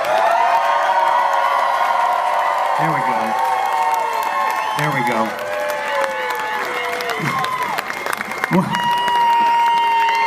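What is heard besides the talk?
crowd cheering and applauding louder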